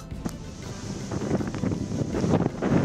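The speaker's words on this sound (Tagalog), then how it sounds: "Nabatyagan ang mabaskog nga hangin kag pag-ulan sa polusyon sang Northern Negros Occidental dala sang Bagyo Tino." Strong, gusty typhoon wind from Typhoon Tino in Northern Negros Occidental, roaring and buffeting the microphone in a continuous loud rush, with rain conditions around and no speech.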